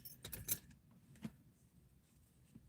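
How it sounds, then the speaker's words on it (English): Forklift keys jangle in a few quick metallic bursts near the start, with a single fainter clink about a second later, over a quiet room. "Got my forklift keys."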